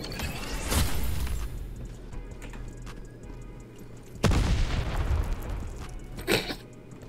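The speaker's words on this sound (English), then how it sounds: "Where the fuck was the explosion, bro?" Gameplay audio from the Farlight 84 battle royale video game: a steady wash of combat noise breaks into a sudden loud boom of an explosion partway through, with the rumble trailing off afterward.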